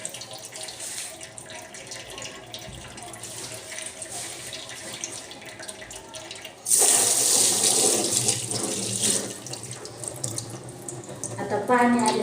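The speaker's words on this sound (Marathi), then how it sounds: "आता पाणी आलेलं आहे" A household kitchen tap bursts on partway through, its steady splashing rush filling a sink at close range and drowning the quieter background that came before.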